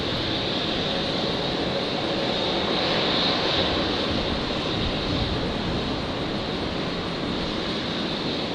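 A jet aircraft on its takeoff roll at Brisbane Airport sends a steady, powerful engine roar across the field, a broad continuous rumble with a sustained whine, heard from a distance with no talking.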